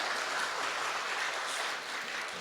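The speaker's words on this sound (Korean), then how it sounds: "우리 큰 박수 한번 다시 한번 부탁드리겠습니다." A packed church congregation at a dawn prayer service gives a big round of applause, a smooth, continuous roar of clapping heard slightly distant and soft, with no voices over it.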